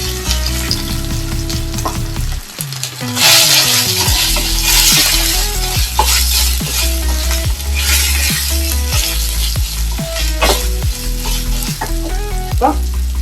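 Cooked beef tossed into a hot pan for a green beef roast, a steady loud sizzle of frying with repeated scraping stir strokes and clinks of the spatula throughout, with no talking.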